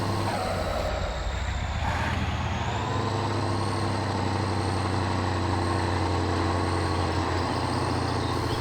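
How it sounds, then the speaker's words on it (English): A Cummins diesel truck engine in the off-road driving game Spintires rumbles steadily with a deep, loud idle drone and layered mechanical whine, holding constant throughout. "So we got the diesel going."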